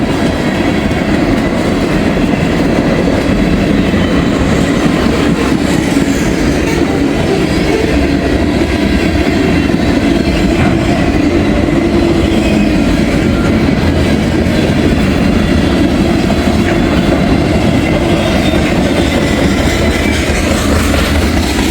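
A coal train about 2,700 feet long rolls past, headed towards the Sharonville yard, a loud, steady rumble of rail cars with rhythmic clickety-clack from the wheels and faint squeals, continuous and close.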